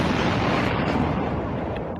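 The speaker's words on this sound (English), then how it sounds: "The explosion really punctuates it." A loud, booming explosion sound effect plays during a basketball talk stream about a Thunder win over the Grizzlies, a dense roaring blast that fills the moment and slowly fades, with no voices over it.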